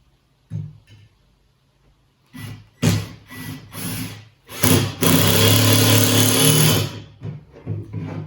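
A cordless drill drives normal wood screws to fasten a can lid to a baited beaver trap hanger. Several short motor bursts come first, then one long sustained run near the mic. It ends with a couple of brief blips.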